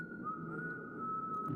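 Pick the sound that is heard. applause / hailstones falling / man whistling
man whistling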